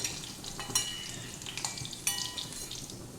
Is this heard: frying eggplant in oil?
yes